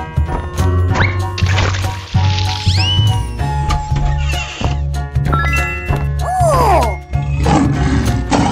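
Cartoon lion roar from a children's wild animal cartoon, blended into loud busy background music with sliding whistles and thumping effects, no clear speech.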